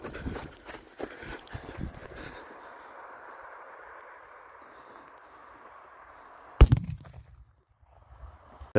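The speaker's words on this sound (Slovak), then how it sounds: "krásna petardička" A New Year's Eve firecracker hisses as its fuse burns for several seconds, then goes off in a single sharp, loud bang outdoors, followed by quiet.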